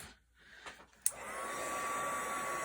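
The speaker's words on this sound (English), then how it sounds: "I am just going to give it a bit of a blast with my heat gun" A heat gun blows a steady, loud rush of air onto paint during an antique-metal finishing craft. It starts abruptly after a quiet moment and holds a constant hiss with a faint whine to the end.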